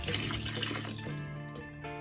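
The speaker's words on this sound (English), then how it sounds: "Then I just add my chemical." Red Restore floor chemical poured into a mop bucket already holding water, a short burbling, splashing liquid stream for about two seconds, close and clear with no talking.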